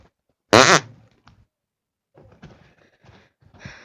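Orange fart toy gives one loud, wet squelching fart burst near the start, followed by quieter rustling, handling and small scraping sounds.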